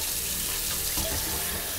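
Tap water runs steadily into a kitchen sink as peas are drained and rinsed, a continuous close hiss and splash with no pauses.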